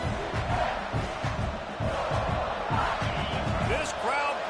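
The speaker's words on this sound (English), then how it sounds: "This crowd bringing the energy and noise early." A large crowd at an American football game roars continuously at a distance, a steady wash of cheering and noise with a voice briefly audible over it.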